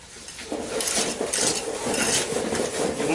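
Sand shaken through a sieve while preparing soil for bonsai repotting, a steady gritty hiss and rattle heard close up and continuously, with no voices.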